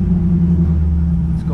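A C5 Corvette pulls away to bed in freshly installed big-brake pads, its engine a steady, deep rumble close by with no sharp revving.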